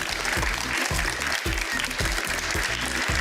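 School fans at a fast cup-stacking competition between two primary schools cheer and clap continuously, a loud, dense crowd roar with rapid applause throughout.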